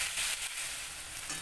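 Potato and eggplant sizzle steadily in a pan while being stirred, giving a continuous soft frying hiss with faint scraping, close and with no talking.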